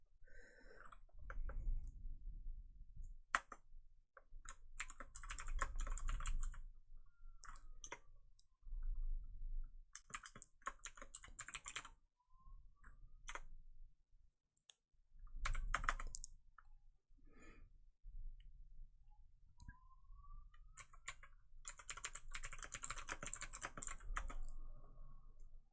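Typing on a computer keyboard, a steady clatter of key clicks in bursts with short pauses, close and fairly quiet, with no talk over it.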